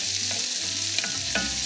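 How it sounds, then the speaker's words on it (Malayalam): Onion sautéing in baking fat in a skillet, a steady close sizzle with a few soft stirring scrapes and clicks of a utensil against the pan, no voices. "ഇനി അടുത്തതായിട്ട് ഞാൻ ഉള്ളി വഴറ്റിയെടുക്കുകയാണ്."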